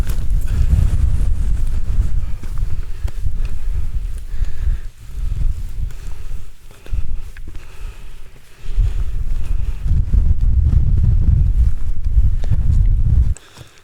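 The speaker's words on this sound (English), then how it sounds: "the wind's cutting right through me" Strong wind buffets hard and close on an exposed Lake District hiking route, roaring in heavy gusts that drop briefly to quieter lulls before surging again.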